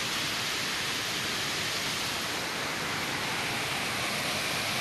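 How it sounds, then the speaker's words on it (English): Waterfall in the Scottish countryside, a constant broadband roar of falling water, steady and uninterrupted with no voices. "that is a waterfall"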